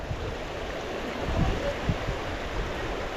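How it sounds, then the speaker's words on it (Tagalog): River water flows in a steady, fairly soft wash, with a few low bumps standing out briefly in the middle and no talking. "Ganda ng ilog na to."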